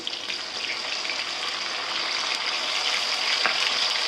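Onions and tomato sautéing in a pan for a fish curry give a steady, close sizzle with a soft watery hiss that stays even throughout, with no one talking.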